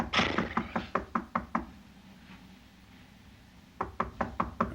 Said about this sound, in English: Oh, not the door. It's just his skull demons knocking again.